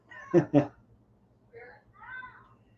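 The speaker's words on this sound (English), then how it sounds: "The cat's in there attacking the kids." A house cat meows indoors: two loud, short calls up front, then fainter, drawn-out meows follow after a pause.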